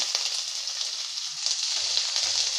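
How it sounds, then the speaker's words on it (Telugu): Capsicum pieces and cumin seeds frying in a pan, a steady close sizzle holding throughout with a few faint low knocks near the end and no talk. "1 నిమిషం పాటు ఇలా కలుపుకొని 1 నిమిషం పాటు మూత వేసుకొని వీటిని ఫ్రై చేసుకోవాలి"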